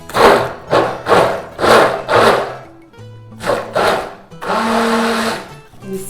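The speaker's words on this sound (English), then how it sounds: "let's mix with the blender now" A handheld blender whirs in cold process soap batter in repeated short bursts, loud and close, ending in one longer sustained run with motor whine.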